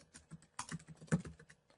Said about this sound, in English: so we type in magic tricks